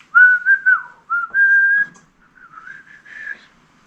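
A woman whistles a short, wavering tune, a few sustained notes with brief breaks, close and clear, getting softer and shakier toward the end.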